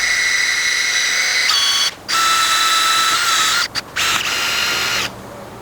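Power drill with a Mac drill bit boring into a rusted part while fixing a Dodge Ram emergency brake, giving a high whining drone in several runs separated by short stops, loud and close.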